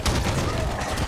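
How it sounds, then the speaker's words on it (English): Rapid bursts of gunfire in a Halo 5 multiplayer match, loud and dense with booming reports throughout a short stretch. "They are shooting."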